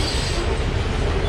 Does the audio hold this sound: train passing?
yes